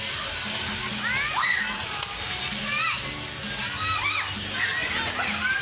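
Water splashes and sloshes steadily while children shout and play nearby in a clear, strongly flowing bathing spot at Senyora, their voices rising over the rushing water.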